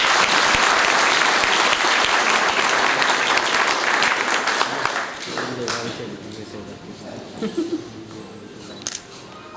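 Loud audience applause welcomes a chairman at an honouring ceremony in Delhi, with dense clapping for about five seconds, then fading into scattered claps, camera shutter clicks and murmuring voices.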